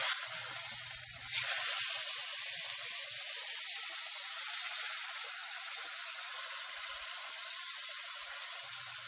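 Cuban mojo steak sizzles steadily in a pan just after flipping, a constant bright hiss of frying fat that stays even and close throughout, with no talking.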